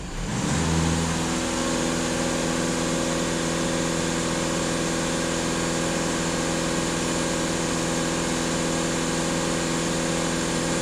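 A VW Passat 2.0 TDI diesel engine is revved up and then held at a steady 2500 rpm, giving a loud, constant drone with a strong even hum that continues unchanged for about ten seconds, close by and without talk.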